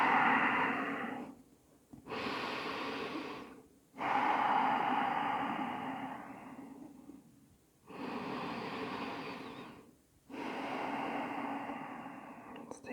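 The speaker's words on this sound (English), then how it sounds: "And we'll take a couple breaths here." Slow, deep breaths are taken in yoga child's pose, forehead resting on the floor. Long, steady inhales and exhales alternate with short pauses between them, close and clearly audible.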